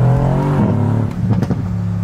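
A car engine revs with a droning harmonic tone that drops and settles into a rougher idle, loud and close, no one speaking.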